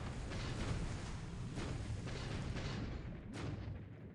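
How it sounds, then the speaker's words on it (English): Dull booms and rumbling impacts roll through a loud, continuous wash of naval battle noise in War in the Pacific, as the submarine Seawolf fires on the destroyer Akebono; two sharper bursts stand out near the start and end. "Seawolf taking a shot at the Akebono"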